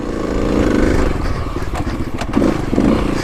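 Kawasaki KLX300 dirt bike chugging over big desert rocks on a trail, its engine pulsing steadily up close with rattling clatter from the rough ground.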